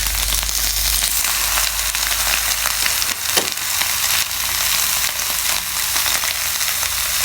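Loud, steady sizzling of vegetables stir-frying in a hot pan for egg fried rice, with scattered crackles and a brief clatter partway through.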